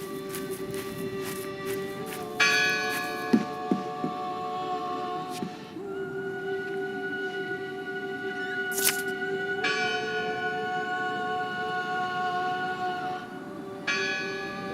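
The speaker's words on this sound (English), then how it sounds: "Listen! The bell! They're still in there!" A church bell rings repeatedly in the video game Draugen, its long resonant tolls overlapping and sustained for the whole stretch at moderate volume, with a few faint knocks and no speech.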